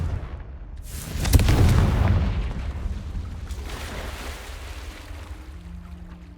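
A Confringo blasting spell explodes in the Hogwarts Legacy video game, a deep booming blast swelling after a second and rolling off into a long rumbling decay, with no speech.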